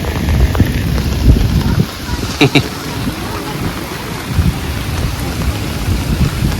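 Heavy rain pours steadily on a beach by the sea in a loud, continuous roar, with gusts and a few sharp clicks cutting through the downpour.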